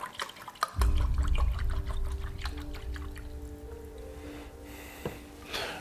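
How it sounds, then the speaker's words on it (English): Rice milk poured into a cup, starting with a sudden close splash and settling into a steady liquid pour that slowly fades, with a small clink toward the end. "we're gonna get a cup of our rice milk in next"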